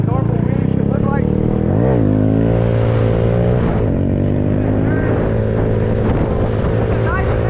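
A Honda Grom motorcycle engine revs loud and close during a wheelie, its pitch rising and falling with the throttle under heavy wind buffeting on the microphone.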